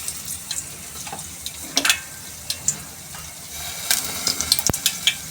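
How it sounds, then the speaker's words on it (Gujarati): Mustard seeds crackle and pop in hot oil as a tempering is prepared for a chana besan curry. The sharp pops come in scattered bursts over a soft background hiss, close by and with no voices. "વઘારમાં આપણે રાઈ નાખીશું"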